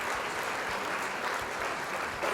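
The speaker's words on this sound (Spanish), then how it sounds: "vamos a darle un aplauso al rey Luis XVI y su esposa María Antonieta" An audience at a history theatre class applauds, giving a short burst of steady, moderately loud clapping with no voices over it.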